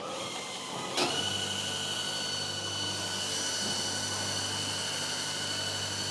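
A grinding machine or sewing machine switched on with a sharp click, then a loud steady whirring motor hum running evenly to the end.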